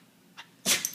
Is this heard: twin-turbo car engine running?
no